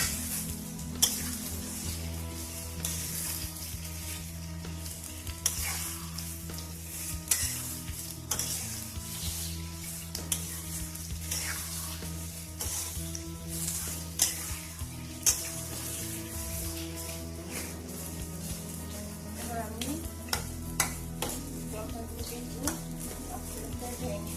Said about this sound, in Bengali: সবসময় নাড়া রাখতে হবে তাহলে কড়াইয়ে লেগে যেতে পারে